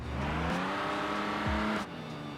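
Truck engine in the BeamNG driving game, a steady engine drone with shifting pitch as it drives off, dropping in level near the end.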